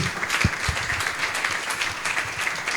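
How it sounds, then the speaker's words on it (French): A church congregation applauds loudly at a worship service, with dense, steady clapping that stays full and close for the whole stretch. "Acclame très très fort, cher peuple de Dieu"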